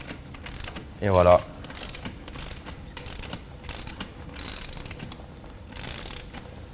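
A ratchet wrench tightens a wheel with a series of quick metallic clicks. A short spoken phrase and a louder mechanical clunk come early, then more clicks follow at an uneven pace.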